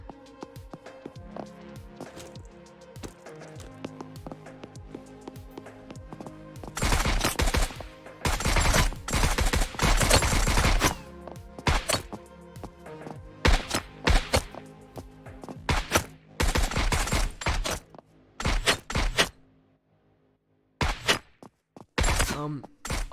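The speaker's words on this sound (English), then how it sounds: "I'm just using a turret right now to sort of simulate the player being shot" A turret in an indie video game fires at the player, producing long rapid bursts of loud gunfire broken by short pauses, with a few separate shots toward the end.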